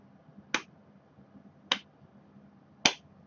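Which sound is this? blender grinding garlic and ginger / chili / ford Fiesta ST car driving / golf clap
golf clap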